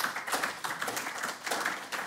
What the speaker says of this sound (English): So please give a warm applause